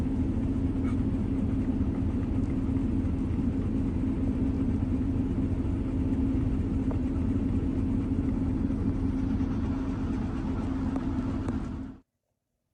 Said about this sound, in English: I'm gonna keep driving so she can relax.